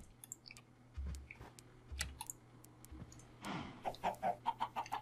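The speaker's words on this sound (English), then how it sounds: "The chickens." Chickens in the Minecraft video game, a few low clucks and bawks spread out, followed by a quick rhythmic series of sharper clicking clucks nearby, with no voices.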